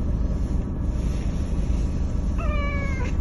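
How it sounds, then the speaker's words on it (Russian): A cat meows at a holy spring, a short rising, drawn-out cry near the end over steady wind and water noise. "Ну что ж, кота забрали со святых мест, Талич."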